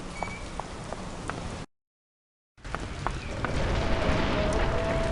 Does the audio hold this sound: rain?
yes